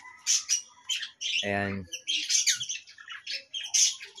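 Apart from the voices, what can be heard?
cockatiels squawking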